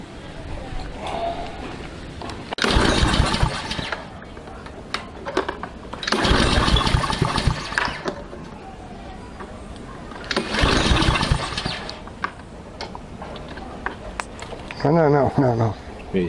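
A flooded small engine being cranked repeatedly without catching: three long, loud grinding cranking bursts separated by quieter pauses, with people talking in between and a short final burst near the end.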